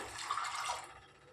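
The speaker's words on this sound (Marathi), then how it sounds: "ह्याच्यात 1 ग्लास पाणी घालूया" A glass of water is poured over soaked chickpeas in a pressure cooker, a brief, soft splashing gush that fades out after about a second, heard close and quiet with no talking.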